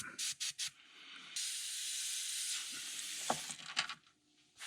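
An airbrush sprays paint onto a crawfish fishing lure in a zombie olive finish, giving a steady close hiss that runs a few seconds between short bursts and stops.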